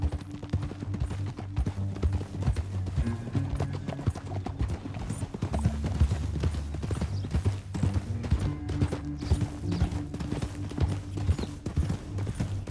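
Steady clip-clop of horse hooves at a trot in a video game (Red Dead Redemption 2), continuous and fairly close, over a low droning musical background with an occasional faint whinny.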